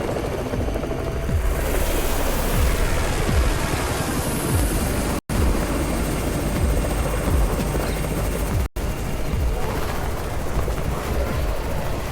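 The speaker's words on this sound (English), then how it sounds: "It's Raven's chopper!" Constant loud whirring rotor roar of a video game helicopter in Undawn, steady throughout with two brief dropouts, no talking.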